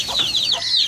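Hens in a rooftop coop give a short burst of rapid, close clucking calls, loud and alone.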